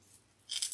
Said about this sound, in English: You do need some good scissors to do this.